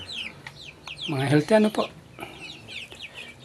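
Heritage chickens on a small backyard farm cluck and squawk nearby, with a louder burst of agitated clucking in the middle, while someone speaks briefly over them.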